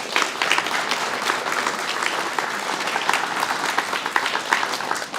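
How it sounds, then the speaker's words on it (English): Steady, dense applause from an audience at a guide dog class graduation ceremony. The clapping is sustained and fairly close and carries on for the whole stretch without talk. "let's congratulate them all with one more round of applause"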